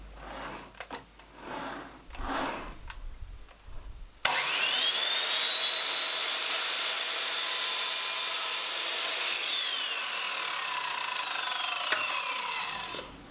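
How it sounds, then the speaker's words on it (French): A wooden plank for a modern bathtub tray is cut to length with a power saw, starting with some handling noise, then a loud, steady whining cut lasting about nine seconds before it winds down. "je vais couper cette planche dans une longueur de 83 cm"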